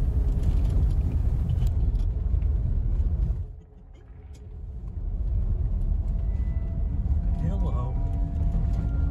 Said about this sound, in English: we hopped in the truck and made our way uphill